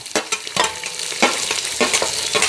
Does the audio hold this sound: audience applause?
no